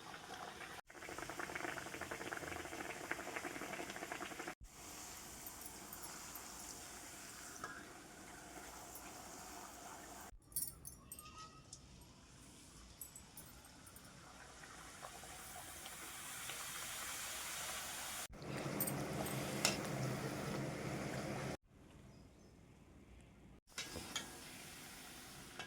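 Besan puris deep frying in hot oil, a steady bubbling hiss that holds throughout with brief cuts, close and moderately loud, with no talking.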